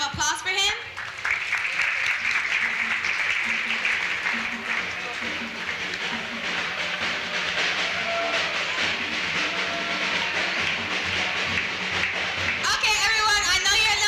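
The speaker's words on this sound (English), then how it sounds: "Everyone, please, another round of applause for him." Audience applause fills a room at an annual life commemoration event honoring Roberto and Vera Clemente, a dense, steady crowd clapping mixed with music and voices for most of the stretch before easing off near the end.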